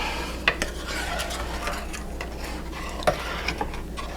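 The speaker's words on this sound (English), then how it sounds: "So I'm going to take my wooden spoon here, and I'm going to mix all that together real well." A wooden spoon stirs homemade corn-free ketchup in a pot, a soft continuous scraping with a couple of light knocks against the side, close by and with no talking.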